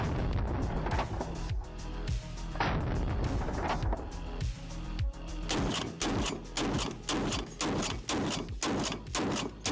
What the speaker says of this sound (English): There's something manly and badass about hip firing a 50 cal.